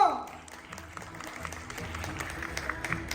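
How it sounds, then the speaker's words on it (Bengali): Audience applause for Taniya-di at a stage event, a dense steady patter of many hands clapping that stays moderately loud for the whole stretch, with a faint voice at the start. "আরেকবার একটু জোরে হাততালি হোক তানিয়াদির জন্য"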